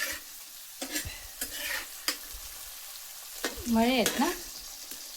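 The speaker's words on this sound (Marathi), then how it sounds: "मासे तळते आई." Fish frying in a pan outdoors in a village gives a soft background sizzle, broken by sharp clatters of a utensil against the pan, and people talk and call out briefly over it.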